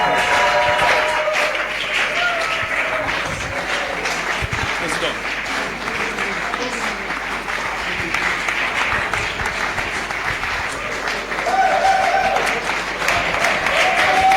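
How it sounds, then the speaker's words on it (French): A congregation at a French-language church service cheers and shouts for joy in a dense, sustained roar of clapping and voices that carries on throughout and swells near the end. "Est-ce que nous pouvons pousser des cris de joie et des acclamations au nom de l'Éternel notre Dieu?"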